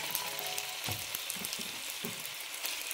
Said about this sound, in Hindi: अब ये मैं बोनलेस चिकन ऐड कर दूँगी।